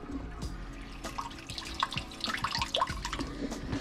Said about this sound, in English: I'll show you what the pump does as far as pulling out of the water